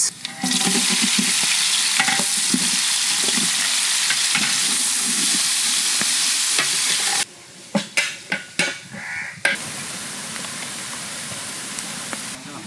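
Onion and black cumin frying in mustard oil give a loud, close, continuous sizzle with stirring scrapes, then drop to a quieter sizzle broken by several sharp clanks of a spoon against the pan.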